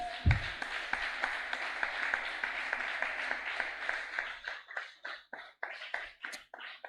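Congregation at a Sunday church service applauding, a dense sustained patter of many hands that thins toward the end into separate rhythmic claps, fairly loud and with no talking.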